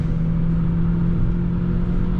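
A 2006 Peugeot with a 140 hp engine and a four-speed automatic gearbox accelerates hard on the autobahn, a steady droning engine rumble with a constant tonal whine, loud and unbroken.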